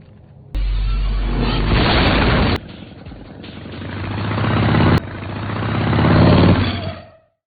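A motorcycle engine roars loudly and close, in abrupt surging bursts with abrupt cuts and rising revs, the drone swelling and fading between segments before trailing off at the end.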